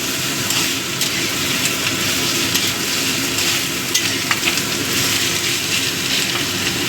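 Radish pieces sizzle steadily in hot oil in a pan while being stirred, a continuous close frying hiss with faint scraping, for Bengali mulo ghonto.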